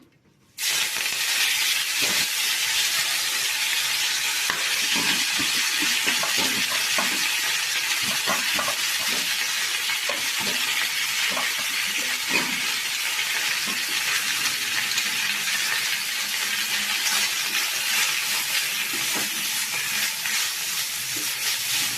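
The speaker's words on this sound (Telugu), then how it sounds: "ఇప్పుడైతే మునగాకు వేయించుకుందాము." Moringa leaves fry in hot oil in a pan with a loud, steady hiss and sizzle that starts suddenly and holds throughout, with occasional stirring clatters.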